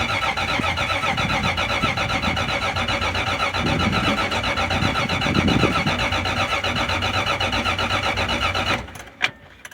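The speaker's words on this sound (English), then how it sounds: "This is just a cold crank over to see how much psi of oil pressure we have" A 1965-66 Plymouth Valiant with a refreshed Slant 6 engine cranks over cold, a steady, rapid, rhythmic churning of the starter for nearly nine seconds before it stops abruptly, leaving a brief clunk.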